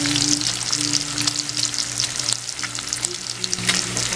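Bacon fries in a pan, crackling and sizzling with sharp pops and some stirring noise, close and steady throughout.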